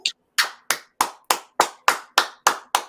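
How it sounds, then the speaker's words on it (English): Nine sharp hand claps in a steady, evenly spaced rhythm, close and loud, with no talking in between. "I'm gonna clap."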